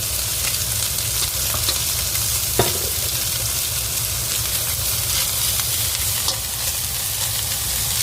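Steady loud sizzling of shiitake mushrooms and shredded meat stir-frying in hot oil for glutinous rice, with occasional scraping clicks of a spatula against the pan throughout.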